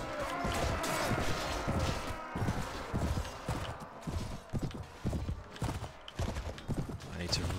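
Horse hooves gallop in Mount & Blade Floris, a steady clip-clop rhythm running close and loud through a game battle, with someone talking over it much of the time.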